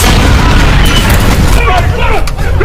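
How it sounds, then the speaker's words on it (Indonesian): Bomb set at a door goes off in a film as the door is being forced, a loud heavy boom that fills the clip and is followed by rumbling debris and scattered higher crackles. "Beruntung bom yang sebelumnya sudah mereka siapkan di depan pintu seketika meledak tepat ketika pintunya coba"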